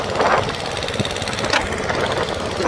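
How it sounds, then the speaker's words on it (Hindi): A motorbike engine runs in a village in Nepal, with a rough, throbbing idle that chugs along steadily and stays fairly loud and close. "साहू जी यहाँ बाइक चला रहे हैं"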